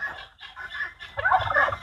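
A turkey on a small mixed farm in Thailand gobbles in two close, nasal bursts, the second louder and longer, with no talk over it.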